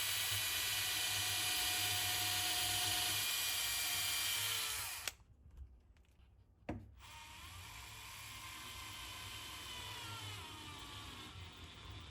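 Power drill driving three screws to fasten a collected mountain plant to deadwood for a tanuki bonsai; a steady loud whir runs through most of the span, breaks off briefly, then resumes more softly.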